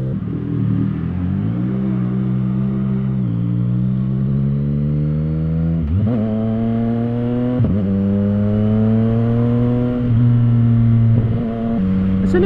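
A CFMoto 675 SR-R motorcycle fitted with a new exhaust, heard from the rider's position while cruising: a loud, steady engine drone rising and falling through gear changes, with wind rush underneath and no talking.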